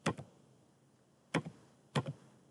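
A few faint keystrokes on a computer keyboard tap out in small pairs with quiet pauses between them in an otherwise still room.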